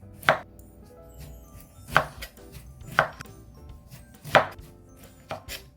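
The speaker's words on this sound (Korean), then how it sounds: "물기를 완전 제거한 레몬을 좀 슬라이스 하겠습니다. 최대한 얇게 해주세요." Knife slicing through a lemon onto a cutting board, crisp thuds in an uneven series of five or six cuts, close and clear.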